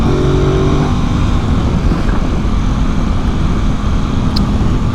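A motorcycle engine runs loudly and close, a constant throaty roar with a slight rise in revs and no speech over it.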